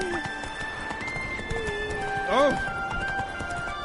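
Roach the horse in the video game Witcher 3, hooves clip-clopping in a steady galloping rhythm with a brief whinny partway through, under a man's short exclamation and game music.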